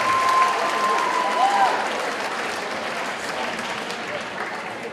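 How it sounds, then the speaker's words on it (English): Audience applause at a school talent show, a dense steady clapping crowd filling the room, fading slightly toward the end, with a brief tonal whistle-like sound early on. "Olivia, and Juliet, give another round of applause to them."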